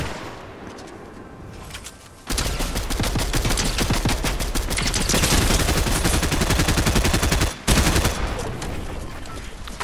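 Rapid automatic gunfire in Fortnite, a dense burst of loud shots that starts after a quieter stretch and runs for several seconds, with a brief gap before more firing.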